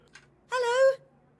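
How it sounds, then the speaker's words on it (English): A telephone being dialed in the video game Assemble with Care: a faint click, then a single clear electronic tone held for about half a second, set against quiet room ambience. "at the counter, Carmen had started dialing the phone."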